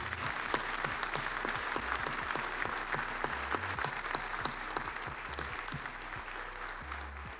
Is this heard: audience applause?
yes